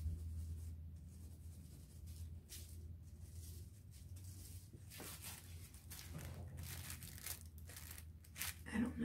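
Soft graphite drawing pencil scratching across paper in uneven strokes and short bursts, close and fairly quiet, with some faint rustling of the paper.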